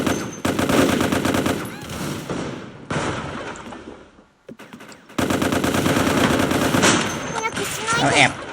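Rapid gunfire from the video game MicroVolts Recharged crackles in loud, sustained automatic bursts, breaking off into near silence midway before the shooting resumes at full intensity.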